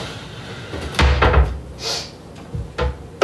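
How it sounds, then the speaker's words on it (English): A door being shut in a home kitchen during breakfast, a few loud nearby thuds and knocks with a solid slam, no talking. "Shut door."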